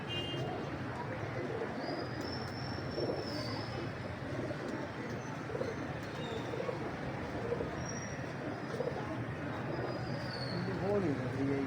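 Soft pigeon cooing in a steady low murmur beneath continuous talking and outdoor background noise, with occasional faint chirps.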